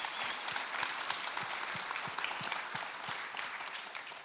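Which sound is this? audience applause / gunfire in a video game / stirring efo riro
audience applause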